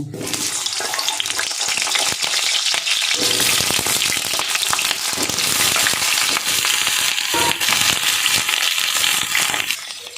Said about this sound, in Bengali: তেল গরম হয়ে গেছে, এবার আমি পটলগুলো দিয়ে দেব।